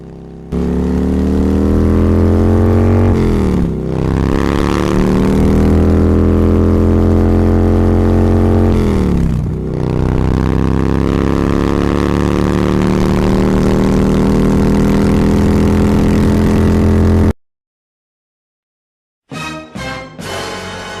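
A car engine roars steadily at 80 to 100 km/h, its hum dipping briefly twice as the revs shift, then cutting off to silence before short bursts resume.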